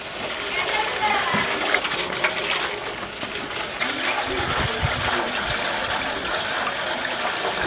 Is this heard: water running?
yes